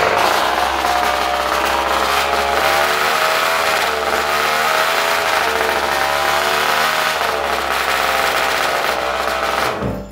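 A gas-powered trumpet, a small engine built into a brass trumpet, runs loudly and steadily with a buzzing, revving drone that keeps going the whole time and cuts off at the end.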